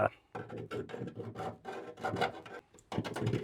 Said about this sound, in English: This is just getting the burr off.